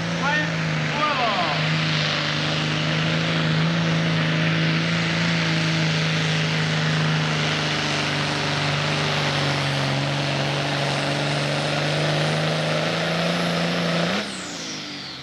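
A John Deere pulling tractor at a 1993 tractor pull in Sandwich, Illinois, holds a loud, sustained engine drone for the whole pull before cutting off abruptly near the end.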